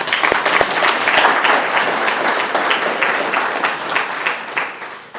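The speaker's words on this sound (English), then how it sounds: "Let's give them a round of applause." Loud, full round of applause from the audience at the 2023 MBA Hall of Fame Ceremony in Wichita, Kansas, sustained clapping with a few sharp claps early on, easing slightly toward the end.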